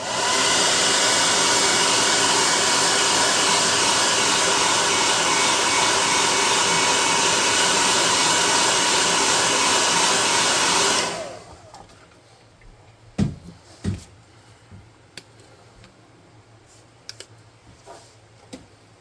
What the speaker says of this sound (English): let me dry this with the air gun